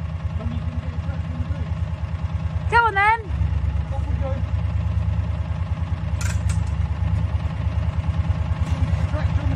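A Gator utility vehicle idles on a farm with a steady, low, throbbing hum that runs throughout, while voices talk over it and a brief high child's cry rises above it.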